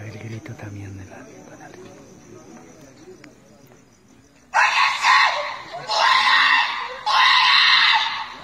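Loud shrill screams come in three long bursts after a quieter stretch, reportedly captured in paranormal footage, with voices and background noise in the first half.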